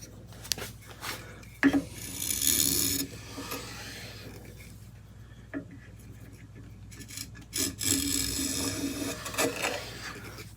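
A Stanley hand plane chamfers a wooden edge in a series of close, dry rasping strokes of uneven length, separated by brief pauses and light knocks as the tool is repositioned.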